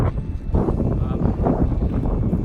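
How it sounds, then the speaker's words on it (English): Loud, continuous low rumbling buffeting of strong wind battering the microphone outdoors on the Pacific Crest Trail, with no pauses. "Super windy."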